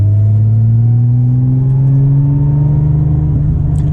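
A Porsche 996 GT2 engine pulls hard under steady acceleration while driving, a loud, continuous rumbling drone that climbs gradually in pitch from start to finish, with no voices.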